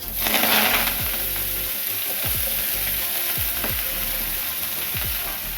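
Chopped bethua greens frying in oil with panch phoron and dried chilli, a steady loud sizzle throughout with a few scraping stirs of a spatula against the pan.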